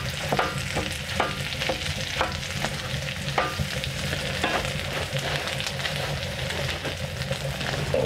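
Food sizzles and fries on a camp stove inside a tent, a constant close crackling hiss with scattered pops and light scraping, steady throughout without talk.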